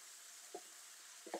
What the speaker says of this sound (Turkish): Şimdi doğradığım kapya biberlerimi ilave ediyorum.